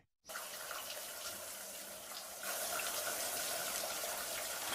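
Shower water runs in a cartoon bathroom, a steady hiss of spray with no voices. It grows a little louder and fuller partway through.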